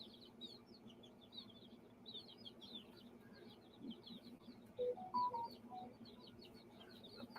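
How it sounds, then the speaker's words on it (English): A phone notification chime plays as a short run of clear rising and falling tones, faint over a background of birds chirping and chickens clucking. "that's my notification"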